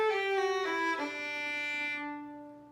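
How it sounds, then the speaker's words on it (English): Unmuted violin, bowed with full, bright resonance: a few short notes change pitch before settling into one long sustained tone that fades out, played alone and close. "Without the mute, my violin sounds like this."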